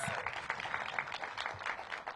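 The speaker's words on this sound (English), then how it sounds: "Give Council Member Gray a big round of applause." An audience at a housing opening event applauds a council member, a steady wash of moderately loud clapping that carries through the whole brief moment, with a few voices mixed in.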